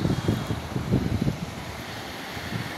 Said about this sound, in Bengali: বাতাস বইছে প্রচুর।